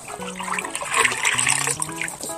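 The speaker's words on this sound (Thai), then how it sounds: "เดี๋ยวทุกคนเดี๋ยวเราจะเทน้ำนะ" Water pours and splashes for a couple of seconds onto shoes being washed, gurgling and trickling up close.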